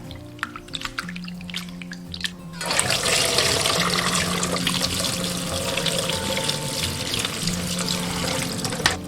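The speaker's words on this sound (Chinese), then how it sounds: "把这个蛏子肉给它清洗干净" Raw razor clam meat being rinsed under a running kitchen tap, a steady close splash and patter of water over the flesh that starts abruptly after a few faint clinks and continues unbroken.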